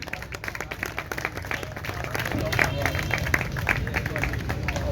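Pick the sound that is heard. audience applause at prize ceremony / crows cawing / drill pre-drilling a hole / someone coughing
audience applause at prize ceremony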